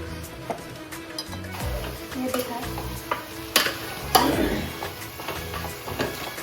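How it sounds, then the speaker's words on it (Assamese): Chicken pieces frying in a pan for biryani: steady sizzle with scraping and stirring clatter, several sharper clanks of a utensil against the pan, close and fairly loud. "মাংসখিনি দি অকণমান দেৰি এনেকৈ ভাজি ল'ম"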